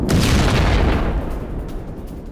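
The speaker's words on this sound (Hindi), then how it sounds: "डोनेस्क के पास यूक्रेनी सैन्य पोस्ट पर ड्रोन से हमला हुआ है। हमले में आर्टिलरी का भी इस्तेमाल किया गया।" Explosion from a drone and artillery strike on a Ukrainian military post near Donetsk: a heavy, sustained rumbling boom that slowly fades over a couple of seconds.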